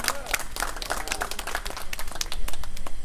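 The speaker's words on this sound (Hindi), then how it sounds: "एगो ताली बजाबिए तो।" A Maithili poetry gathering in Mumbai gives a burst of applause after a poem, with sharp, irregular hand claps from a small audience, fairly close and building slightly louder toward the end, with some voices mixed in.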